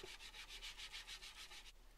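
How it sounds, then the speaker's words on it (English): Sandpaper rubs back and forth over a scrap wood hedgehog house, about a dozen rhythmic, evenly spaced strokes, close and quiet, ending abruptly. "I then just gave it a light sanding down to remove any rough edges"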